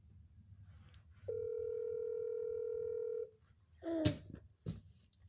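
A steady telephone dial tone hums for about two seconds, loud and unbroken, during a prank call to grandma, then cuts off and gives way to a couple of short voiced sounds and a sharp click.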